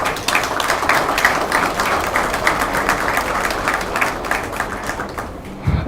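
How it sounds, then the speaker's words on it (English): Sustained applause from a crowd at a hackathon opening ceremony, dense steady clapping filling the room for several seconds before cutting off abruptly at the end. "So I think we should give a round of applause to all of them."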